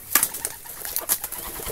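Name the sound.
pigeon cooing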